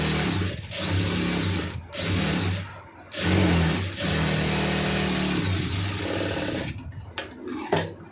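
A sewing machine stitches a churidar pant in steady loud bursts, pausing briefly several times between runs of fast motor whirring and needle clatter, close up with no talking.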